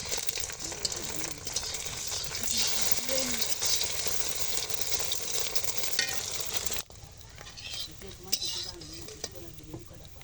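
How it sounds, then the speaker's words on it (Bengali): Egg frying in very hot oil in a wok gives a steady, close hiss and crackle. The sizzle stays loud and continuous, then drops noticeably quieter near the end but keeps going. "তো আমি এখন ডিম ভেজে নিচ্ছি, কড়াইতে তেল দিয়েছি"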